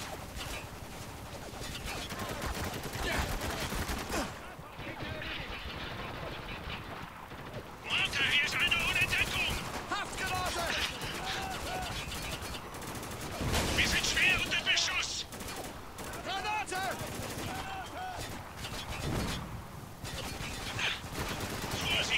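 A shootout in Spec Ops: The Line, with sustained rapid gunfire, bursts and loud shots over a constant roar of battle, broken by brief lulls and game voices.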